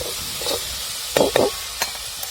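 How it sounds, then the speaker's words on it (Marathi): Sliced okra (bhindi) in a pan in a village kitchen gives a soft, continuous sizzle, broken by a few louder scraping stirs of a spatula near the middle and end. "इकडं आपली भेंडी पण बघा मस्त फ्राय झालेली आहे"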